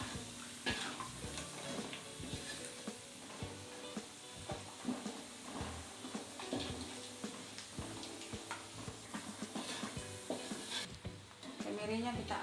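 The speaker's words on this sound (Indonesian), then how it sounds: "Sambil dioseng-oseng ya guys, biar jangan gosong." Candlenuts stir-fried in a pan, a dense crackling sizzle with constant scraping and tapping of a utensil against the metal, close and steady.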